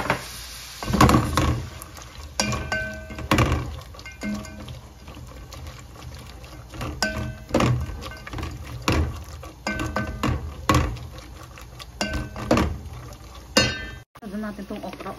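Sliced onions dropped into hot oil in a pan for a Middle Eastern bamia stew, crackling sizzle with bursts of stirring and scraping that come and go, close up, no talk.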